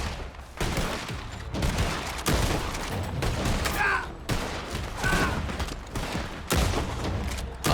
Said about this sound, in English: Kai Chiang, shoot them down.